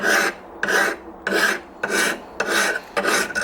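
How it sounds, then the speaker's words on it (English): A sharpening stone or file rasps against a blade to take the burr off the back edge, six even strokes close by, each a bright scraping burst with short pauses between, no talking. "Let's take the burr off the back of that, and I think that'll be done."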